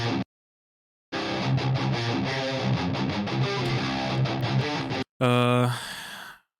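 A thick, saturated electric guitar, recorded with an SM57 on a Vintage 30 speaker, chugs through a riff at full volume, then stops briefly and ends on a ringing sustained chord.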